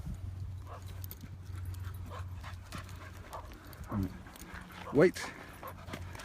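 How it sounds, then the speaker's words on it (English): A dog pants softly and steadily on a country walk outdoors, close by and fairly faint, with footsteps, a brief whimper, and a person speaking briefly. "Got a dog coming the other way"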